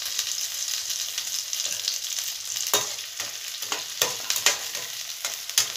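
Curry leaves sizzle in hot oil over a medium flame for chilli prawns, a constant close hiss of frying broken by sharp crackles and spoon scrapes as they are stirred, with no voices.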